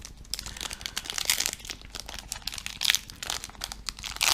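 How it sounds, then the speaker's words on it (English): Yu-Gi-Oh card packs being torn open, their foil wrappers crinkling and crackling in close, busy bursts with short pauses, loud and alone. "I'll just continue opening these as they're still normal packs"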